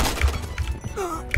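Metallic clicks and thunks of a P90 submachine gun being reloaded in the shooter game Point Blank: a few sharp, close mechanical snaps spaced across a second and a half, over steady low game background.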